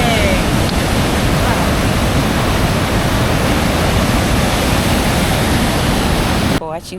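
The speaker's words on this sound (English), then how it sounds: "I don't know if you guys are hearing me because the waterfalls, the sound is so loud" Loud, steady roar of the Busowoko Falls waterfall near Jinja, Uganda, a dense rush of close water filling the whole scene without pause until it cuts off abruptly at the very end.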